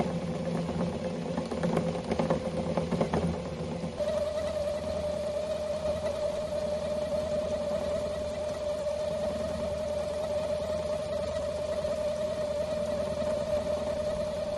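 A DIY CNC router hums steadily with a sustained mid-pitched whine, preceded by a few seconds of rougher, busier mechanical noise; moderately loud, about 60 decibels at one metre, and continuous.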